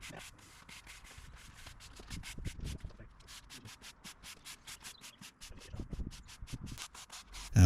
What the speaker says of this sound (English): By sweeping diagonally to the joints, the grit is not swept out again.